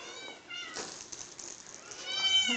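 A pet cat meows in short harmonic calls at close range, with an indoor setting and a brief rising cry near the end.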